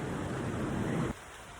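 Steady rain falls in Coromandel, New Zealand, a dense even hiss that drops sharply in level partway through, then carries on more quietly, with no voices.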